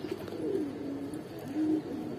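Red dobash pigeons cooing close by, two low rolling coos with a short pause between them over faint background hum.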